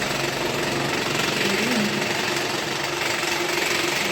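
Small motorized hydraulic pump power pack on a mobile crane runs steadily and close, a continuous mechanical whir with a rattling motor drone and no pauses.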